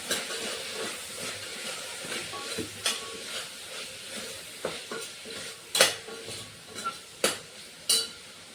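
Spice powders are stirred into a simmering pot of pulao, a soft sizzling hiss broken by sharp spoon scrapes and knocks that grow louder and more frequent toward the end, with no one talking.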